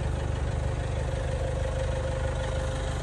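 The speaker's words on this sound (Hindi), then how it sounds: "डीजल इंजन है।" Diesel engine of a 1998 Toyota Land Cruiser idling steadily with the bonnet open, a continuous low rumble with a faint whine above it, close and alone without talk.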